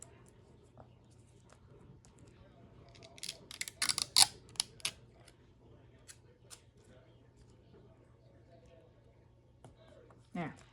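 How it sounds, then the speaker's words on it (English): Tape is pulled and torn to mend a torn banknote, with a quiet cluster of crinkly ripping and crackling strips in the middle, then a single short rustle near the end over a faint steady hum. "So I'm going to stop the cycle and I'm gonna tape it."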